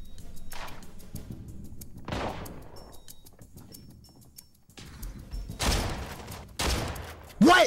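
Shots fire in the mobile shooter Arena Breakout in a few separate bursts, some distant and faint, others louder and closer near the end, with quiet gaps between them.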